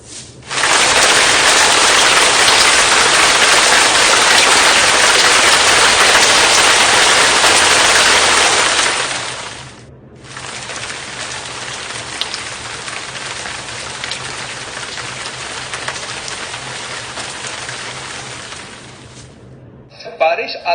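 Heavy rainfall in Karachi pours down in a loud, dense, steady hiss that fills the first half, then eases to a softer but continuous downpour before briefly cutting out near the end.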